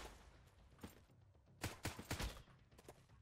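Gunfire from the survival video game Sunkenland crackles in a quick burst of several sharp shots, fairly faint and distant-sounding, clustered in the middle of an otherwise quiet stretch.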